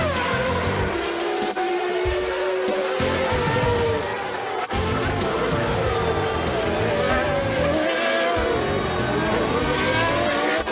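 A Formula One car with a Ford V8 engine revving to 14,500 rpm at the 1994 Canadian Grand Prix, loud high-pitched engine notes rising and falling through gear changes, with several cars screaming past continuously.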